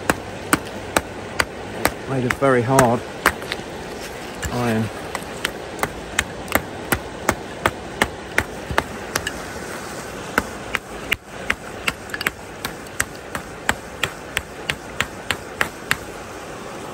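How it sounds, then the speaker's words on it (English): Two old, rusty, very hard iron hammers are struck together again and again, giving sharp metallic clanks in a steady rhythm, close and loud, while someone talks briefly over the early strikes. "Breaking the golden rule of never hit two hammers together."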